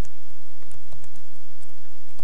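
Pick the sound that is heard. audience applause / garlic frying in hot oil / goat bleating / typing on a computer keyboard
typing on a computer keyboard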